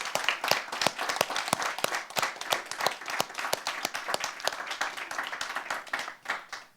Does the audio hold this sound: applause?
yes